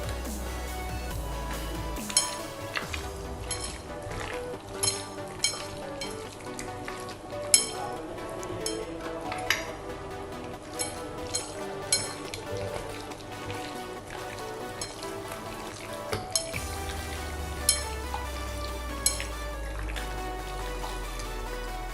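Beef tikka marinade of yogurt and lemon juice being mixed in a bowl, a steady wet squelching and stirring with scattered clinks against the bowl, close and fairly quiet throughout with no talk.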